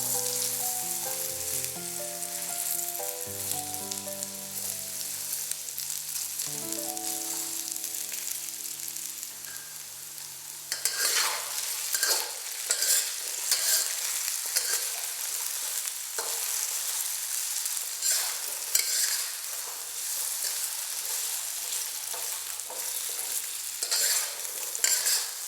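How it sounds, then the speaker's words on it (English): Potatoes tossed and stir-fried in hot oil in a pan, soft background music at first, then a bright steady sizzle with repeated scraping and stirring strokes. "Put in the potatoes and give it a quick toss to coat it with the oil."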